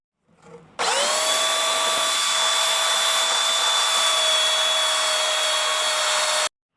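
Loud, steady whine of a power sander with coarse sandpaper running continuously for several seconds on a 1986 Sea Ray boat, then stopping abruptly.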